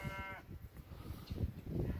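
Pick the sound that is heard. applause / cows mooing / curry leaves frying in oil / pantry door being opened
cows mooing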